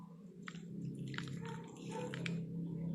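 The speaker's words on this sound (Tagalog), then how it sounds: "Yan, lagyan natin tubig." Water is poured into a cooking pot for fish paksiw, making a soft, continuous splashing and trickling that runs under quiet background noise.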